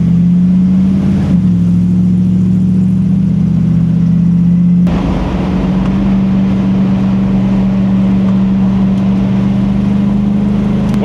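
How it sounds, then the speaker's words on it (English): A 1979 GMC C35 truck engine revving hard while driving, a loud sustained droning roar that climbs in pitch and holds high, close and steady throughout. "that motor's screaming and the oil pressure gets really high"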